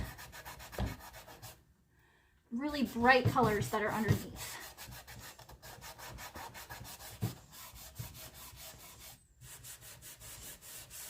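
Repeated rasping strokes of sanding paint off wooden drawers, steady and close, briefly interrupted by someone talking before the scraping resumes.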